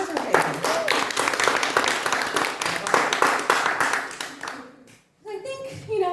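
A small audience claps steadily at close range for about five seconds, dense and even, then fades out; after a short pause a voice starts talking.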